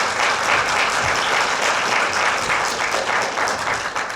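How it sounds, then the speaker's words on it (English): Sustained audience applause at a lecture on commodity futures and option prices, dense steady clapping from a full room throughout, loud and even with no pause. "please help me give another round of applause to our speaker"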